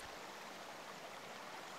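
A cartoon river flows in an even, steady rush of water, a soft continuous wash with no talk over it.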